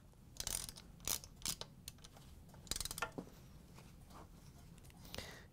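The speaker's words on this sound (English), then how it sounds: "we can grab our ratchet with the large Phillips driver" A ratchet fitted with a large Phillips driver tightens screws into a Whirlpool/KitchenAid/Maytag appliance base, giving scattered quiet clicking bursts and short mechanical rattles close by with pauses between them.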